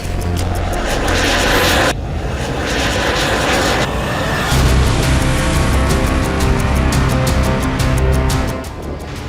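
Loud, continuous aircraft engine roar of a fighter jet squadron in flight, broadband and steady across the whole stretch with shifting intensity and a slight fade at the end, no voices.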